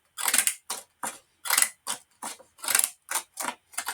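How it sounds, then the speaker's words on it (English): Long scissors snipping through paper for a handmade journal, about a dozen crisp, close cuts in a steady rhythm with short silent gaps between strokes. "Long scissors. I'm going to cut that just a little bit shorter."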